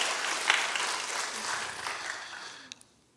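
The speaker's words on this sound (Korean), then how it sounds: "박수 치셔야죠." A Friday prayer congregation in church claps for a few seconds, a moderate patter of many hands that fades out toward the end, followed by a couple of isolated claps.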